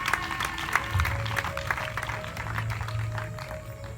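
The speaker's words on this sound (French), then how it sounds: "On acclame le Seigneur pour cette parole prophétique." A church congregation applauding during a French-language worship service, a continuous mid-level patter of many hands with some crowd murmur and a low hum underneath.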